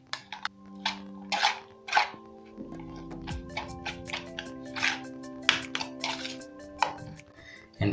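Chopped onions, tomatoes and greens for kachumbari being mixed in a bowl, with clattering scrapes and soft wet squishes in an uneven rhythm, close up over a steady background hum, no voices.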